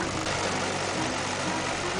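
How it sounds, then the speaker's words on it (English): An old Massey tractor engine runs with a steady, dense drone that holds constant at close range while a voice talks over it. "There was nothing Tractor Ken liked to do more than to ride his tractor."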